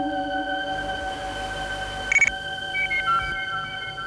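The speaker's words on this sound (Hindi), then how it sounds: "फोन उठा नेहा।" A telephone rings briefly in a TV drama scene, a short electronic trill rising over sustained background music tones.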